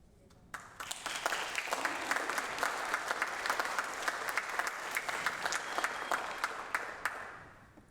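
At a Serlingfest celebration in Binghamton, an audience breaks into applause after a brief quiet start, dense clapping sustained at an even level with sharp individual claps standing out, then tapering off at the end.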